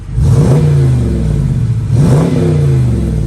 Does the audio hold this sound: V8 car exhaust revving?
yes